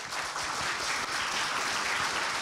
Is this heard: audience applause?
yes